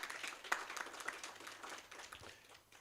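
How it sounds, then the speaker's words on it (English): A short burst of applause and clapping from an audience at a caregivers forum on non-communicable diseases, fairly faint and distant, with scattered claps that fade toward the end. "Shall we clap for Dr. Gavesh again?"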